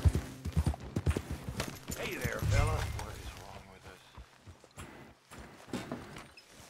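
Horse hooves clip-clopping in the video game Red Dead Redemption 2, a short run of hoof steps under game sounds and someone talking, fading into scattered softer steps.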